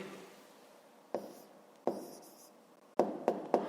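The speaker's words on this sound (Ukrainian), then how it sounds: "Пишемо тоді відповідь." Handwriting on paper while a maths exercise is worked, scratchy pen strokes that come as several short bursts separated by quiet gaps, the last three quick and close together.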